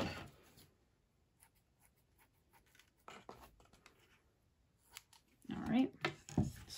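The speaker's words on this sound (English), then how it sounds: "take your scissors and just cut that end." Scissors snip through fabric for a no-sew ferret tutu. Faint scattered cuts and rustles come first, then louder close snips near the end, and a person talks quietly in between.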